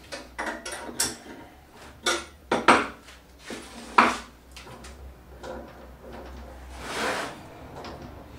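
A 3-jaw chuck being mounted onto a wood lathe, a close series of loud metallic clanks and knocks with brief scraping in between, irregular and without speech.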